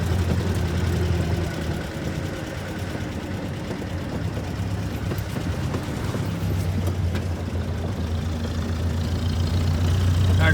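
A 1962 Jeep M170 ambulance with a manual transmission drives along, its engine giving a steady, continuous low rumble that holds close and even from start to finish, with no voices.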